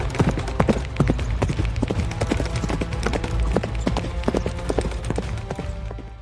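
Horse hooves clip-clop steadily along a paved colony road in Visakhapatnam, close and distinct, with a regular rhythmic beat of several hoofbeats throughout.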